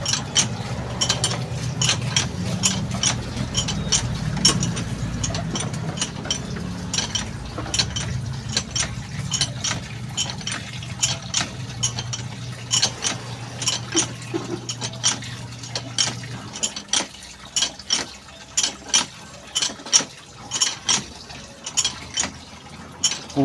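A hand-operated water pump squeaks and clanks during laundry washing, first with a continuous churning of water and mechanism, then settling into a rhythmic, repeated pumping stroke that continues steadily to the end.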